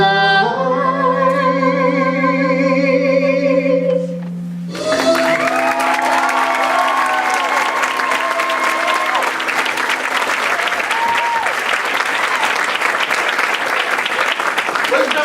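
Loud sustained applause with cheering from a large audience at a volunteer gala fills the room after music, with scattered voices mixed into the crowd noise.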